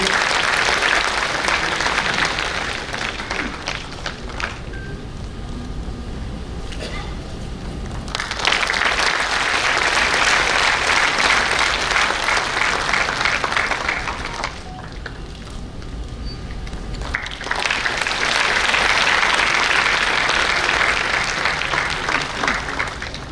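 Audience applause at the NHPC Raising Day award ceremony at the corporate office, sustained loud clapping in three swelling waves separated by softer lulls.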